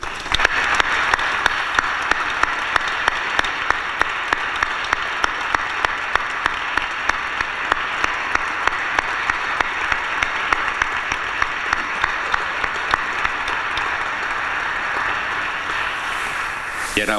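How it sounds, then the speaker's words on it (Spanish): Sustained applause for the town's music band at a Santa Cecilia mass in a church in Hellín, dense, steady clapping from a congregation lasting throughout with sharp individual claps standing out near the microphone. "Os pido para ellos desde aquí un fuerte aplauso."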